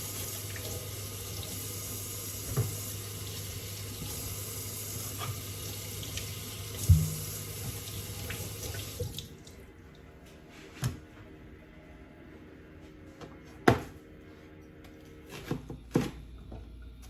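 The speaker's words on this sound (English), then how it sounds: "So we're gonna now rinse all this down, rinse our onions" Tap water runs steadily into a kitchen sink while onions are rinsed for a crock pot sirloin roast, a continuous close wash that cuts off partway, followed by a few soft knocks and clatters of handling.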